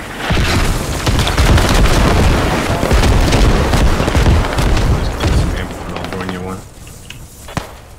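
Explosions in a video game pound out as a dense, loud barrage of overlapping booms and blasts, sustained for several seconds before thinning into sparser, quieter bursts near the end.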